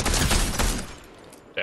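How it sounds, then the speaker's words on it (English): Rapid bursts of gunfire in the Fortnite battle royale, loud and close, a dense fusillade over the first second that then fades, with a voice speaking over the shots. "Oh, I'm getting shot at."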